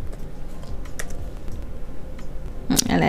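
Quick, close clicking of keys on a computer keyboard, a short word being typed into a design app, with a sharper burst of clatter at the end and a voice present.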